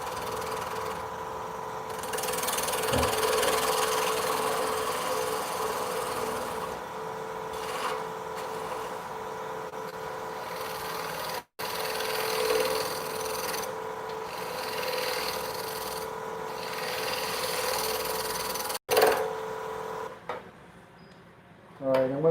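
A wood lathe turning a wooden piece at about 1200 RPM, giving a steady hum with a rasping, scraping texture, close and continuous, with brief gaps and a tool rubbing near the end.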